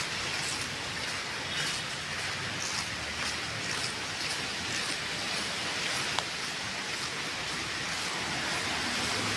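Heavy, continuous rain pours onto a flooded street in Nadda, Baridhara, making a steady, dense hiss that stays loud and even throughout.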